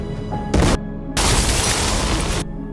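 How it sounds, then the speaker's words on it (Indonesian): Gas leaking in a house in the film The Call (2020) sets off an explosion: a short loud burst, then a longer roaring blast that lasts over a second before cutting off. "rumah itu akan mengalami ledakan dikarenakan gas yang"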